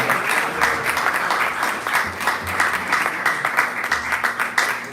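Audience applause rings out after a spiritual talk honoring Romapada Maharaj, steady dense clapping from a large gathering that holds throughout with a few louder bursts.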